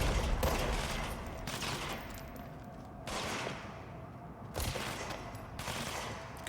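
Bursts of rapid gunfire from the video game Control, in the tutorial area during a fight against an enemy called Gold Boy, come in several loud volleys with short gaps between them.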